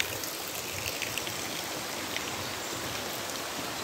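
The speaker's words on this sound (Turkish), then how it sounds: "Munzur çayının gözesine gittik." Water flows from the spring of the Munzur stream near Arapgir, Malatya, in Turkey, making a steady, even rush and trickle with no voices over it.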